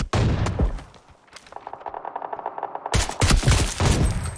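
Bursts of automatic rifle fire in PUBG, loud close shots echoing, then a rhythmic volley of quieter distant rounds, followed by heavy close gunfire again, no talking.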